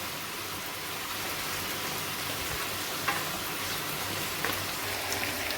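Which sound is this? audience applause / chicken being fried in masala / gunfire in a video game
chicken being fried in masala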